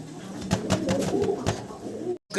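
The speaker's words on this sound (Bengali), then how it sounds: "একজোড়া গ্রিবাস কবুতর আমরা দেখতে পারতেছি" A pair of Gribas pigeons coos in low, throaty pulses that repeat steadily close by, with a brief break just before the end.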